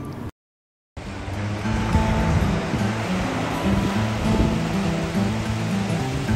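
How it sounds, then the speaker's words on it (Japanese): Small ocean waves wash steadily onto a beach on a cold day, a continuous broad rushing surge that stays near and fairly loud, broken once by a brief gap of silence early on. "肉眼で見ると波ちっちゃ"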